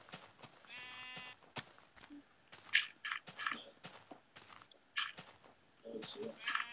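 Blocky sheep in Minecraft bleat repeatedly over several seconds, clear and fairly close, mixed with game sound effects and busy background noise.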